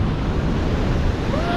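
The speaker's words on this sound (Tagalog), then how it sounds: "malakas ang alon" Strong ocean surf roars continuously at Pacifica Pier, a loud, dense wash of breaking waves mixed with gusty wind buffeting the microphone.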